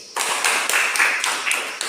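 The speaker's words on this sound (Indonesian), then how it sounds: "Sekarang mari kita tepuk tangan untuk kelompok B." Students in an Indonesian classroom clap together for a group after its presentation, a dense wash of hand claps starting just after a brief quiet moment and holding steady with slight rhythmic surges.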